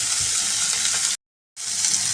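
Chillies for besan mirchi bhaji sauté in a pan with a steady, close hissing sizzle that cuts to silence briefly before resuming.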